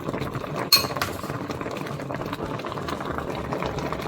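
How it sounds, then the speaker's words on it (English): Strawberries for compote boil in a pot, a dense steady bubbling close by, with a single sharp clink of a utensil against the pot near the start. "So I'm going to let this boil for 2 minutes and then it's ready"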